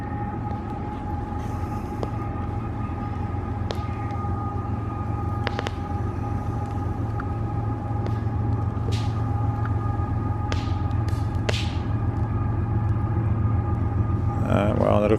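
A long train rumbles past the Fraser River in British Columbia, a low, steady roar with a sustained tonal hum and scattered metallic clicks and squeals. People talk over it.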